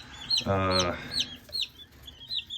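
Black Crested White Polish chickens cluck and chirp close by, with one louder drawn-out call standing out among the short calls.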